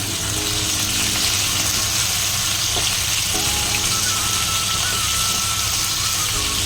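Potato pieces fry in oil with dry red chilli and bay leaf, giving a continuous loud sizzle close by, with a low steady hum underneath.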